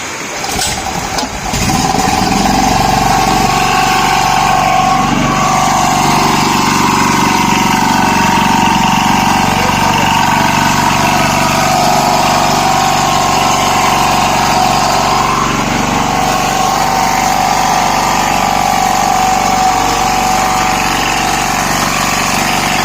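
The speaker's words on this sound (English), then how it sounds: "So turn on the gen like a regular gen," A petrol-fueled generator with an LPG/CNG convertible carburetor starts up and settles into a loud, steady running drone that carries on without a break. No one speaks.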